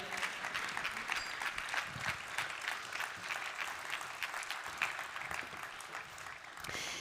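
Sustained applause from a large audience at the Autonomy Day ceremony, honouring representatives of the state youth advisory councils; dense, steady clapping that carries evenly for the whole stretch at moderate distance.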